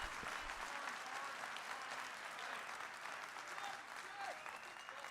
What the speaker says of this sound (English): He was waiting for the applause.